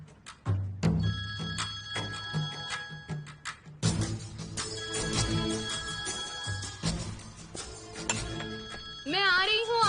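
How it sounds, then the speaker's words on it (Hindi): A phone rings in a Turkish drama scene, repeated bell-like trills across the clip alongside background music and bursts of other sound, ending with a rising warbling tone. "मुझे लगा केमाल भाई का फोन। नहीं, ये मेरी मॉम का है।"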